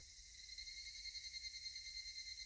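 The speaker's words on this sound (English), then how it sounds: "Only the cry of the cicadas remained, annoyingly loud." Cicadas crying in the Higurashi video game, a steady, continuous high shrill drone with faint pulsing, heard alone and fairly quiet over a low background hum.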